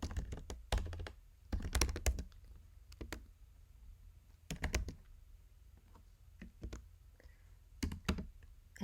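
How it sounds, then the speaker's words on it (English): Typing on a computer keyboard, with irregular bursts of clicking keystrokes separated by short pauses, close and fairly crisp, with no voice over it. "Let's type that in."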